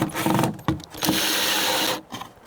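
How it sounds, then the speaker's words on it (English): A close, loud power drill runs in short bursts, grinding and whirring as it drives a screw into wood, then stops. "Just drill it in."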